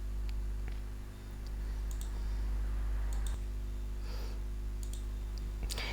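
A computer mouse clicks sharply several times at a steady close range over a low electrical hum, with no talking.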